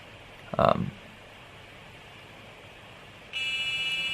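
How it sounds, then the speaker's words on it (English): A short electronic buzz near the start, then a steady hissing wind-like noise with a high tonal hum kicking in toward the end, from the video game Wumpus World. "now the buzzer's going off and the wind's going off"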